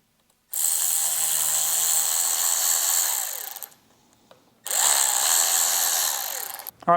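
A power tool whirs loudly at close range backing a bolt out on a Harley Davidson Electra Glide, running in two bursts separated by a short pause.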